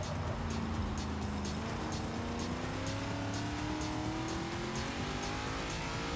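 NASCAR race car lapping the wet Nürburgring Nordschleife in Forza Motorsport 6, with a steady high engine whine rising through the gears and rhythmic ticking clicks over it, continuous and moderately loud.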